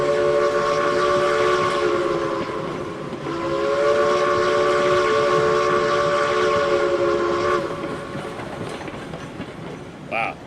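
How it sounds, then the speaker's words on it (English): A locomotive whistle in the RailRoads Online video game sounds in long, steady, loud blasts with a short gap, over rumbling train noise, then fades. "Wow, great whistle in the valleys there."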